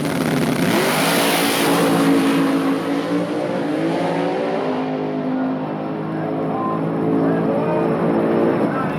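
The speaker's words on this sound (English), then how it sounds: "Craig's hard-charging Mustang lined up against Giovanni Castillo's Toyota Supra." Mustang and Toyota Supra drag cars in an import-versus-domestic final, engines roaring loud and steady with harmonic revving that rises and falls, close by, with a voice talking over the noise.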